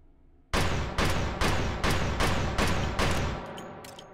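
Seven heavy gunshots from a powerful gun in the VR game Hot Dogs, Horseshoes & Hand Grenades ring out loud and close in an even, steady rhythm, each blast decaying into the next, with no talking.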